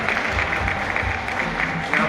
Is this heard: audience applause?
yes